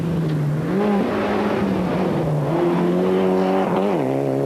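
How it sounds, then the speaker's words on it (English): A Mitsubishi Lancer rally car accelerates hard during a rally, its engine loud and close, pitch rising and dropping through gear changes with a strained, buzzing roar. "15 is the Mitsubishi Lancer of Pascal Smets."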